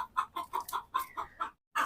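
Chickens cluck close by in a quick series of short, clipped calls, followed by a brief pause and one more cluck.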